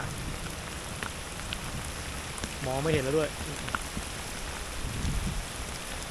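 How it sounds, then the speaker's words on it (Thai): Rain falls steadily outdoors beside a backyard fishing pond, a dense even patter on surfaces throughout, with someone speaking briefly in the middle. "ต้องหาที่หลบฝนกันนะครับทุกคน"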